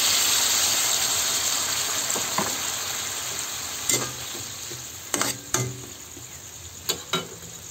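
Water poured into a hot frying pan during cooking, a steady hiss and sizzle with several sharp clinks and scrapes of stirring.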